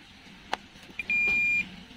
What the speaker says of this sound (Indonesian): Selanjutnya coba kita lakukan pengukuran dengan menggunakan buzzer.